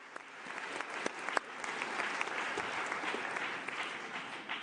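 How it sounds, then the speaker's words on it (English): An audience at a United Nations youth summit in Geneva applauds a State Councillor, a steady, moderately distant wash of many clapping hands that holds without pause. "so you can give her a round of applause"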